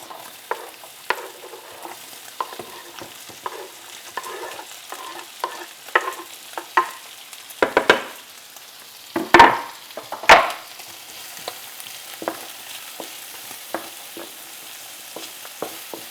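Onions frying in a pan for German fried potatoes, a continuous soft sizzle with frequent light clicks of a utensil and a couple of louder scraping stirs midway.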